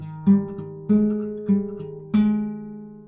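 Four plucked guitar notes, including an open third string, ring out one after another at an even pace, each sustaining into the next, clean and close.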